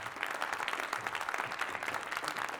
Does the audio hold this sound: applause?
yes